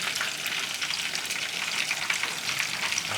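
Steady, loud sizzling of a thick ground spice paste frying in a hot wok with lemongrass and dried tamarind slices, a continuous crackling hiss with faint stirring scrapes throughout.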